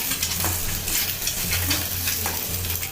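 Eggs frying over a high flame while being stirred and scraped in a pan, a steady close sizzle broken by repeated short scraping strokes.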